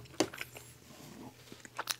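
Cheese pizza is bitten and chewed close to the mic, with a crisp bite near the start and soft crunchy chewing after it, quiet, with no talking.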